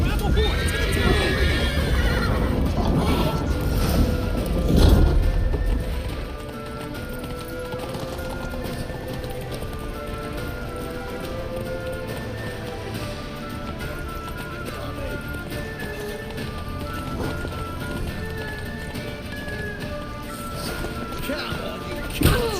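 Horses in the video game The Witcher 3 on PS5 whinny loudly at the start, then gallop with rapid hoofbeats under shouting voices and a busy, chaotic scene.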